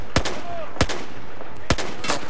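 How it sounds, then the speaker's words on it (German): Gunfire in the video game Battlefield 4: three or four sharp, loud single shots spaced irregularly, standing alone without talk. "Einzelschuss."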